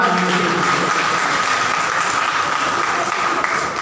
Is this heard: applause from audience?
yes